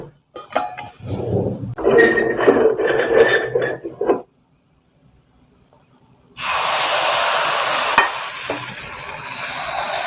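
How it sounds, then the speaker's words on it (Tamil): Appam batter hits a hot pan over a moderate flame and breaks into a loud, steady sizzle, which follows an earlier burst of clattering kitchen handling and a short silence. "சரி நாங்கள் இப்போ அப்பத்தை சுட்டு பார்ப்போம்"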